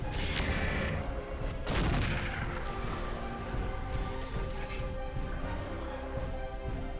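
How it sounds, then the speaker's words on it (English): Mechs trade weapons fire in MechWarrior 4: Mercenaries, a dense, continuous barrage of blasts and impacts with a heavier crash near the two-second mark, loud and unbroken, with no voices. "Why are they always shooting at me?"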